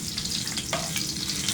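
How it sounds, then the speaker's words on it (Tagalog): Gakay crab sautéing in a hot pan, a steady dense sizzle of frying with a brief stir or clatter partway through, close and continuous with no talking. "Ayan na siya, lulutuin na namin. Igigisa pa rin."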